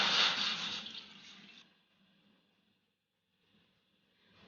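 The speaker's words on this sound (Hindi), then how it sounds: "कहवा बनाने के लिए हम अपने पैन में लेंगे 1 लीटर पानी," Water pours into a cooking pan to make kahwa tea, a loud, splashing rush for about a second and a half that then fades to quiet, with a faint trickle returning at the end.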